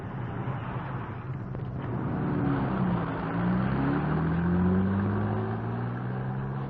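A car drives along a road with a steady mid-pitched engine drone and tyre rumble, the engine note rising and shifting gently as it moves, heard from inside at an even moderate level.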